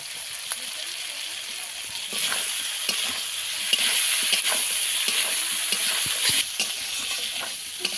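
Spices with coriander powder fry and get stirred in a pan for a fish and potato curry, a loud, continuous close-up sizzle with scraping stir strokes throughout.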